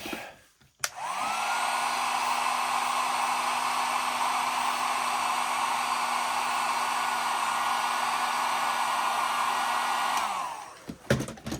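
A heat gun runs continuously for about ten seconds while warming a plastic action figure part, a steady loud whooshing hum with a sustained tone, starting and stopping with small clicks.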